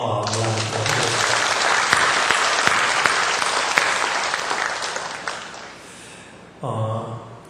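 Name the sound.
applause thanking the church choirs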